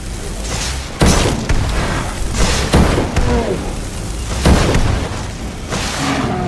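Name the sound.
fire spell cast at a troll in video game Skyrim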